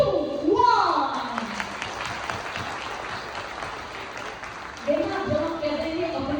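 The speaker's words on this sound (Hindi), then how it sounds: "देखा, जब हम कहते हैं अपने लिए बजाओ तो सबसे बेस्ट ताली बजाते हैं।" An indoor audience at a corporate book launch claps enthusiastically in a sustained, dense burst of applause lasting several seconds. A voice speaks briefly at the start and end.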